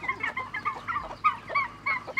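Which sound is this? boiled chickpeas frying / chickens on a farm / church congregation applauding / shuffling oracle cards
chickens on a farm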